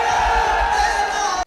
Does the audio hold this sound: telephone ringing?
no